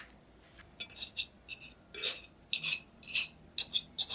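Five eggs beaten in a bowl with tuna sauce, mirin and salt for steamed egg: a utensil makes bursts of bright clinks and scrapes against the bowl in an uneven rhythm, close and clear, with no talking.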